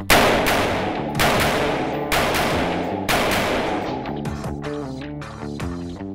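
Rifle fire rings out in a rapid string of loud, sharp shots at roughly one-second intervals, then a quicker volley of overlapping bursts toward the end, with reverberant tails between them.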